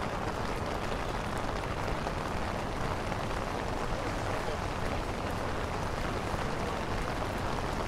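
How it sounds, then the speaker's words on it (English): Steady rain falls across Times Square in New York, a dense, even hiss of drops spattering pavement and umbrellas that holds constant and fairly close throughout, with no clear voices above it. "There's something magical about Times Square in the rain."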